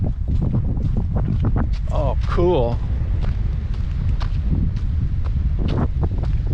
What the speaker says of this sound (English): it's definitely a windy day